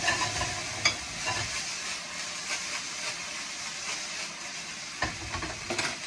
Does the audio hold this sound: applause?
no